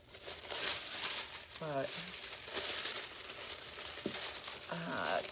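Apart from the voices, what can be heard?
crinkling craft foil being handled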